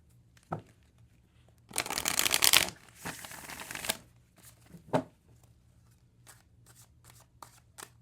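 Pokémon energy trading cards are handled and shuffled, with a couple of seconds of dense papery riffling between scattered soft taps and flicks of cards, close and fairly quiet, with no talking.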